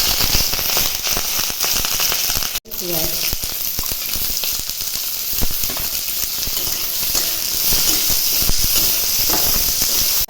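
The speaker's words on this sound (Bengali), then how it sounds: "তেল গরম হয়ে গেছে এবার শুকনো লঙ্কাগুলো দিয়ে দেবো আর এতে দেব রসুন কুচি কাঁচা লঙ্কা কুচি আর কারি পাতা" Dried red chillies, chopped garlic, green chilli and curry leaves hit hot oil on a gas stove, giving a loud, continuous crackling sizzle that fills the whole stretch, broken only by a brief dropout.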